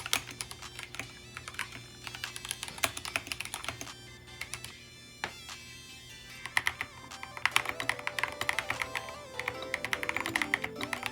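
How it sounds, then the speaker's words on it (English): Typing on a customized 60% mechanical keyboard fitted with artisan keycaps: a steady run of close, crisp key clacks and taps, with faster bursts toward the end and no talking. "Here is the sound test."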